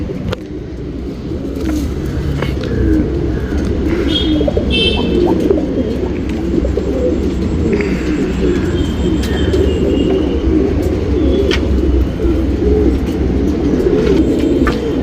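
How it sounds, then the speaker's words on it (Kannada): Old-line, pure-bred pigeons coo continuously in low, rolling tones for the whole stretch, steady and fairly close, with faint background noise and no talking. "ಒರಿಜಿನಲ್ ಕ್ವಾಲಿಟಿ ಹಕ್ಕಿ ಇದು."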